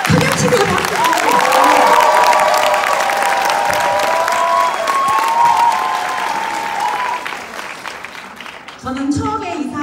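Loud, sustained applause from a seminar audience at a Hyatt hotel event fills the room, with scattered cheers and shouts over the dense clapping before it thins out near the end.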